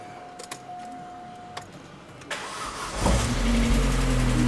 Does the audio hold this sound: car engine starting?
yes